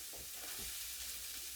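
Spring onion and green beans get stirred in a hot pan, a soft continuous sizzle with a couple of scraping strokes near the start, close and fairly quiet.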